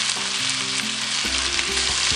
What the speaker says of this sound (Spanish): Me encanta ese sonido de papas friendo o cualquier cosa que se fríe.